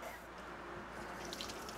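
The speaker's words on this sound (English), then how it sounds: "Blast a little water on it." A thin stream of water runs into a sink, a quiet, steady hiss with soft splashing close by.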